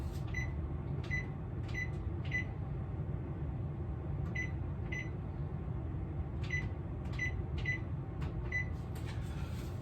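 Oven control panel being set to preheat for baking, a series of short electronic beeps in small clusters over a steady low hum of kitchen noise.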